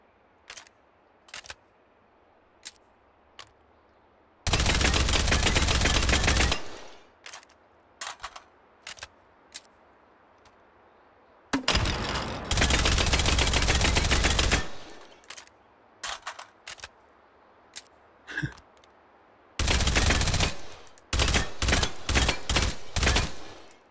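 Submachine gun fire in the VR shooter Hot Dogs, Horseshoes & Hand Grenades: three long, loud automatic bursts alternate with scattered single shots, clicks and handling noises, ending in a rapid string of closely spaced shots.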